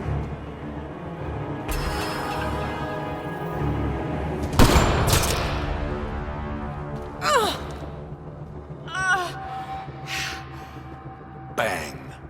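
Sniper rifle fire in Mass Effect Andromeda, one sharp loud crack with a rumbling tail, followed by fainter whooshing impacts and effects over a low game soundtrack.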